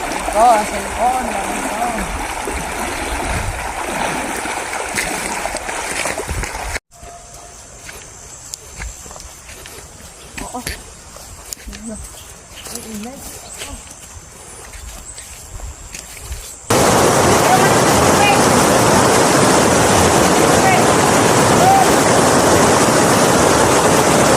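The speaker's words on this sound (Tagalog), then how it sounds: "May nadaanan kaming ilog. Tinawid namin." A shallow, murky river runs steadily as people wade across it on foot, with splashing and talking over the water; the rushing grows loud and constant toward the end.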